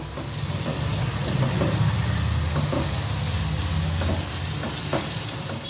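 Egg fried rice is stirred in a hot pan, a loud continuous sizzle with spatula scrapes and stirring noise throughout, heard up close and alone.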